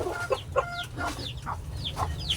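Laying hens clucking in short repeated bursts, roughly one every half second, close by over a low steady background hum.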